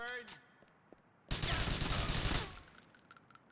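Sustained burst of gunfire from a gun in Grand Theft Auto IV, loud and dense for about a second before cutting off, with faint game sounds around it.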